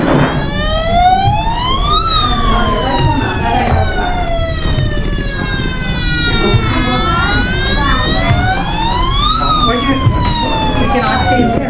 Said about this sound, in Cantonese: 哇，好多消防車嘅